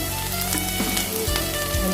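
Garlic sizzles steadily in a hot pan for a beef brisket soup, a dense, even crackle and hiss running unbroken throughout, close and fairly loud, with no voices over it.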